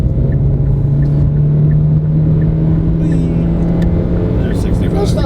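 A 2018 Kia Niro accelerates at full power, its cabin filled with a loud, steady low hum and rumble, a rising tonal whine, and faint road noise.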